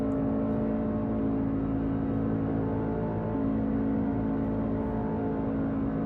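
Race cars in the iRacing video game, a dense, steady engine drone at high revs, loud and continuous without pause, with no talk over it.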